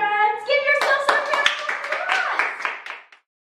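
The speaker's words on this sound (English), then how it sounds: "Give yourselves a round of" Toddlers in an online dance class clap their hands in a quick burst of distinct, close claps that speed up irregularly, with an adult voice over the start, before stopping abruptly.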